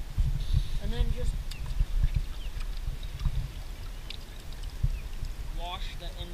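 Water splashes and runs steadily while a freshly gutted shad is rinsed out at the riverside, a continuous near wash of sound with brief voices and clatter underneath.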